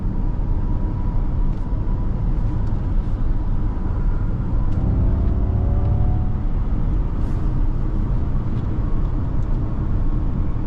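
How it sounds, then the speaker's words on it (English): Steady broadband wind and road rush fills the cabin of a 2023 Ford Mustang Mach-E GT while driving, a constant moderately loud roar with no pauses and no talk. "I hear a lot of wind noise coming from the rear and the front seat"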